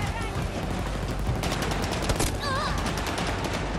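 Sustained rapid gunfire from Battlefield 2042 gameplay, dense overlapping bursts forming a loud continuous fusillade, with a brief whistling sweep partway through.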